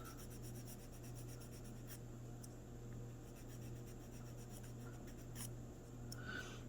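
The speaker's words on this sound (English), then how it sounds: "my jeweler file to kind of just get in there" A jeweler's file rasps against a small plastic miniature model part, faint close rhythmic scraping strokes over a low steady background hum.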